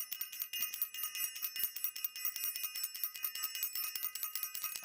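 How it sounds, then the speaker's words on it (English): A small bell, like a bicycle bell, rung rapidly and continuously, its bright metallic rings overlapping in a steady, close, fairly loud stream with no talking. "I want to ring the bell."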